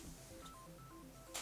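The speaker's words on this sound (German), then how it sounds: "Oh, mein Handy klingelt." A mobile phone gives off a quiet electronic tone pattern, short stepped beeps in a shifting melodic sequence, faint and close, during a board game session.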